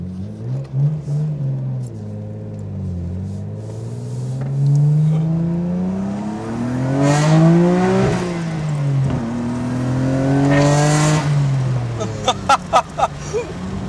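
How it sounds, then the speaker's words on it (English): A 1995 Nissan R33 GT-R engine with a Tomei titanium exhaust revs repeatedly, harmonics sweeping up and falling back in several long pulls, with sharp exhaust pops and crackles near the end. "we will do some drive-bys, some revs"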